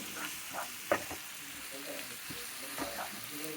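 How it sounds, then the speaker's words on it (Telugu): Mashed roasted eggplant chutney with curd being stirred in a bowl, soft wet squelching and scraping strokes with a sharper clink near the start, close and quiet. "ఇది బాగా మిక్స్ చేసుకోవాలి."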